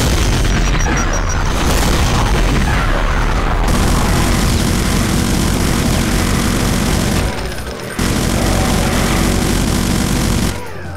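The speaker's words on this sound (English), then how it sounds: "we're going to let off a BFG blast on a whole bundle of demons" BFG blast in Brutal Doom 2 on GZDoom, fired into a pack of demons in a hellish map: a loud, dense stretch of booming explosions and crackling gunfire that stops for a moment and then carries on just as heavy.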